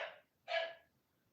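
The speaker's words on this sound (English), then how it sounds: "Someone was at the door and my dog goes absolutely mental." A pet dog barks twice at someone at the door, two sharp close barks about half a second apart, loud against a quiet background.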